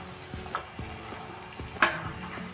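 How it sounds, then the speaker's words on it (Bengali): Luchi flatbreads deep-fry in oil under a low bubbling sizzle, broken by a series of light, irregular knocks and taps and one sharper clatter partway through. "তো দেখো একে একে সবকটাই ভেজে নিচ্ছি।"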